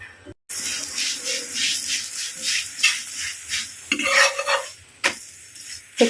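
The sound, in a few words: dough frying in oil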